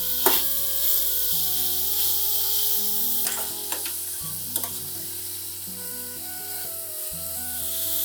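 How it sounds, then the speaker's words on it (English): Chopped tomatoes sizzle and fry in a pan of Nilgiri korma base with red chili powder and salt, stirred briefly by a spoon. Steady sizzling hiss runs throughout, with a few sharp scraping strokes, close and fairly loud, with no talking. "tomatoes, and a quick stir"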